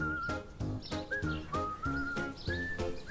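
Spring birdsong played as a storybook sound effect, with short whistled chirps and rising tweets repeating in quick bursts over a soft, steady background. The sound is faint.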